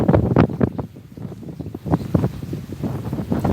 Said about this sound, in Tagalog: Mo ni update sa Osamis panahon dire kusog ng hangin